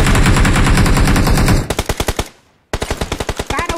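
Rapid automatic gunfire in BGMI, loud and close, with fast bursts of evenly spaced shots, a short pause of near silence, then another sustained burst.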